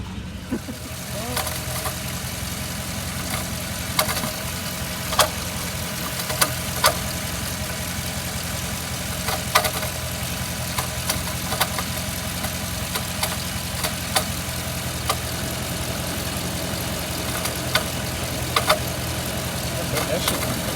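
A Dodge Charger Scat Pack engine idles steadily with a failing, wobbly water pump pulley, giving a continuous hum with faint repeated ticks and knocks, while someone talks over it.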